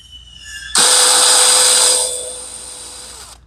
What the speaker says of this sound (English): I'm just going to touch it with the bit just to mark it.